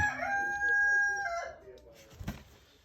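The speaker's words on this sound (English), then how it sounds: "Oh, it's a chicken." A rooster at an animal sanctuary crows loudly and close at hand in one long drawn-out call, followed by a brief cluck or rustle.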